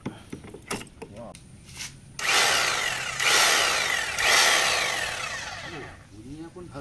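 A Bosch GSH500 Gen 2 hammer drill runs in a loud, steady burst of several seconds, rising and falling slightly, with a voice talking just before and after it.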